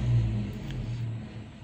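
A Toyota Kijang with a 7K engine idles after its carburetor has been cleaned and reassembled, a low steady rumble with a slight swell as the revs ease down, running alone and fairly close.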